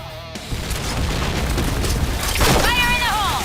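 A grenade blasts in the shooter game Point Blank, a brief booming burst with rumbling debris and another hit shortly after, followed by a short voice.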